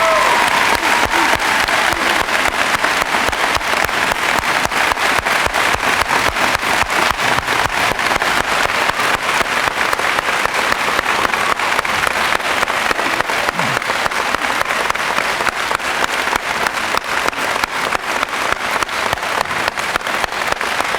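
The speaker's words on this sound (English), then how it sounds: "How about a very special round of applause for our Navy veterans and Mr. Steve Griffin." Sustained applause from a school audience honoring Navy veterans at a junior high veterans appreciation performance, dense steady clapping filling the whole stretch with no break.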